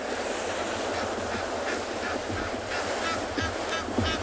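Egyptian geese honk on a shoreline, repeated harsh nasal calls ringing out over a constant rush of surf and wind, moderately close.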